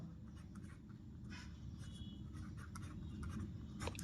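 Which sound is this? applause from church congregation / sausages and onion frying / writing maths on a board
writing maths on a board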